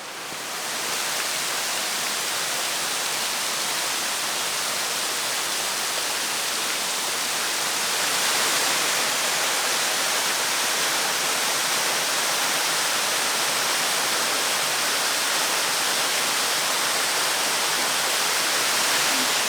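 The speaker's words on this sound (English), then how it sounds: "What a stunning waterfall." A waterfall near a cave roars as a constant, dense broadband rush of falling water, loud and unbroken throughout with no voices.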